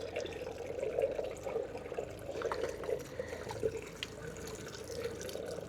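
Water runs and leaks from a campervan water system, a close, steady trickle and splash with small drips and gurgles, fairly quiet and continuous throughout.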